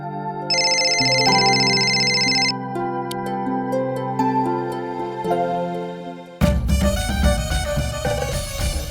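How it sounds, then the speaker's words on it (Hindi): A mobile phone ringtone plays a bright electronic melody with sustained tones, loud and close, before a burst of busier music cuts in near the end. "ये मेरा फोन कहाँ बज रहा है?"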